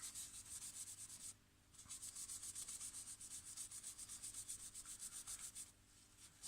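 Finish is rubbed along the grain onto wood spinning on a lathe, a faint hissing friction that pulses rhythmically and pauses briefly before resuming.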